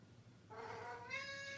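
Pet cat meowing indoors, one drawn-out rising meow, faint and fairly close, with no talk.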